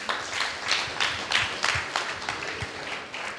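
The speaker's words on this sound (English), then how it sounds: "Let's clap for him." An audience claps at a celebration event, a sustained round of applause with individual claps standing out in a rhythmic pattern, moderately loud and continuous, with no talking over it.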